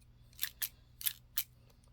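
Paper snipped with scissors at a craft table while making a mixed-media envelope flip page for a gothic Poe journal, four crisp cuts in an uneven rhythm, close and clear against a low hum.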